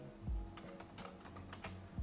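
Soft, quick keystrokes on a computer keyboard patter in a short irregular run, close and quiet, with no voice over them.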